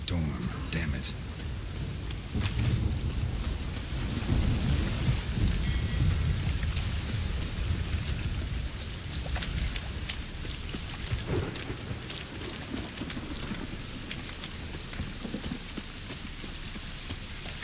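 Heavy rain pours steadily through a Witcher 3 thunderstorm, with rolling thunder swelling early on and sharp cracks breaking through, while a character mutters briefly under the downpour.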